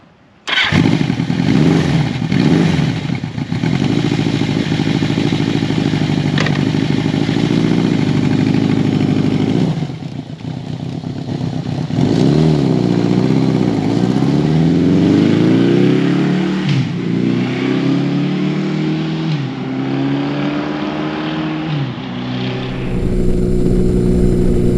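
A 1982 Yamaha XJ1100 Maxim motorcycle with new progressive front fork springs starts up and rides off. Its loud engine drones steadily, then rises and falls in repeated climbing sweeps through the gears before easing back.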